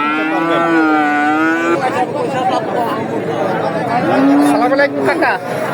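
Two long, loud cattle moos sound nearby at a livestock market in Chandaikona, Sirajganj, Bangladesh, one near the start and another toward the end, over a murmur of crowd chatter.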